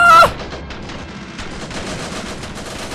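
Ravenfield battle gunfire in a World War I setting, opening with a loud close burst, then many distant shots crackling in rapid, overlapping volleys.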